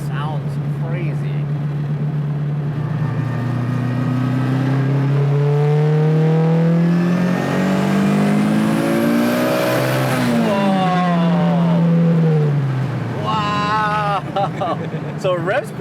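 A loud, close turbocharged Toyota Corolla engine revs steadily higher over several seconds, then drops and climbs again, with a voice talking over it near the end.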